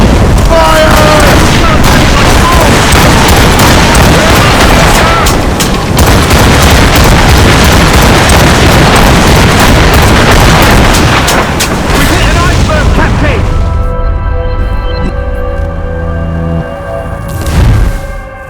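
In the video game Assassin's Creed Rogue, a ship fires a volley of cannons. Loud, rapid booms pile into a heavy barrage that fades into calmer tonal music near the end.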